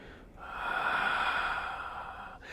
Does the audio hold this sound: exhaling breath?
yes